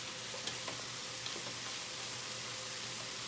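Broccoli dropped into a pan where pasta is cooking, giving a steady, soft hiss of sizzling with a couple of faint clinks, no voices.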